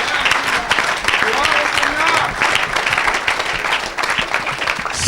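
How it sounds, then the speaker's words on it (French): A church congregation applauds loudly and steadily throughout, dense clapping filling the space, with voices and crowd noise mixed in during a prophetic worship service. "Oh, acclame."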